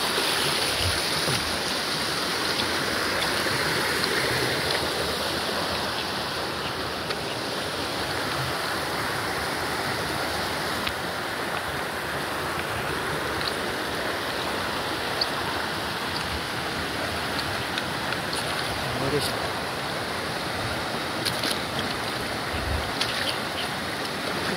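Steady broadband rush of flowing river water in Batangas City, continuous and fairly close, with no voices and little change across the whole stretch.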